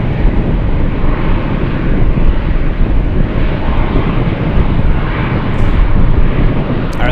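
Engines of a Boeing 747 Dreamlifter at Anchorage airport near midnight produce a loud, deep, continuous roar that holds steady throughout, close and heavy at the low end.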